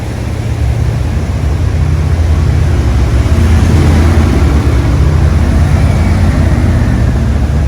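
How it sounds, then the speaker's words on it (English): Loud, steady low rumble of vehicles rolling through the Harpersfield Covered Bridge, an enclosed wooden structure, with a hollow, booming drone filling the space throughout. "Some cool sounds when you're in here and the vehicles are going through,"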